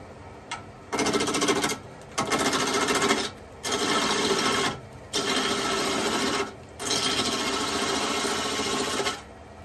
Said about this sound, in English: Good sharp roughing gouge with a 45 degree angle on it.